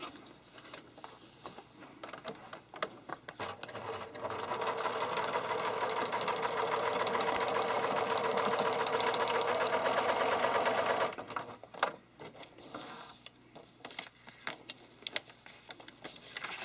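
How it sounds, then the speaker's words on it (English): A sewing machine stitches a seam in fabric, its fast steady whirring running for several seconds between quieter handling clicks before and after. "I'm going to put a pin in it and turn over and stitch on that line."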